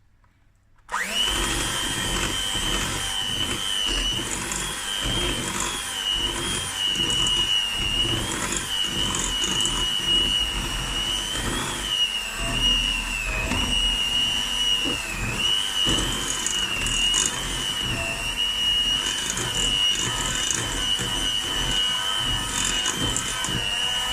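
An electric mixer whirs through carrot cake batter made with lemon juice and vanilla essence, starting abruptly and holding a loud, steady high-pitched motor whine with rhythmic churning underneath for the whole stretch.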